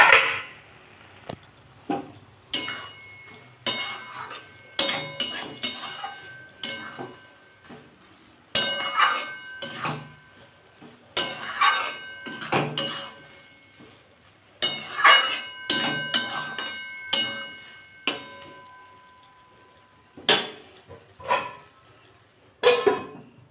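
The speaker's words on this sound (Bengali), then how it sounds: "আমি মাঝে মাঝে ঢাকাটা খুলে একটু নাড়িয়ে দেবো" Kakrol and lentils are stirred in a covered pan, with a spoon scraping and the lid clinking in scattered sharp knocks and rattles, quiet between bursts, with no voices.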